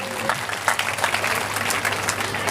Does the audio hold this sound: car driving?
no